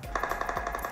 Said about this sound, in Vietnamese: Tiếng súng.